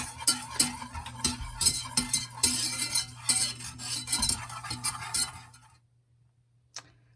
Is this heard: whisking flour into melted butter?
yes